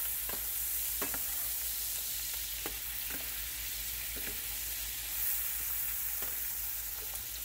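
Chopped squash sizzles in a skillet over high heat, a steady hiss of frying punctuated by intermittent spatula taps and scrapes.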